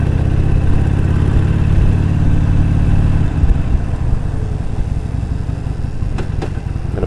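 Motorcycle riding through Laurel Canyon in Los Angeles, engine droning loud and close with a pitched whine that drops off as the gears shift, followed by rougher rumbling and wind noise.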